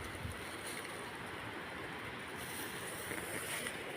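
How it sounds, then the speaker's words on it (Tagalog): A stream's flowing water babbles faintly and steadily on a steep forest trail to Talon Malapad falls in Bailen, Cavite, a soft continuous wash with no voices. "Narinig na po natin ang lagaslas ng tubig."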